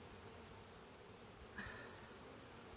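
Honey bees in a nine-frame hive box with working comb, giving a faint, steady, low buzzing drone, with a soft brief knock partway through and no voices.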